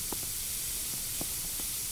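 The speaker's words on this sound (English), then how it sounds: "Let's go ahead and spray just in case it smells bad in here." Air freshener sprayed inside an internet cafe in the Internet Cafe Simulator 2 video game, heard as a few quiet, short hissing bursts spread over a faint steady background.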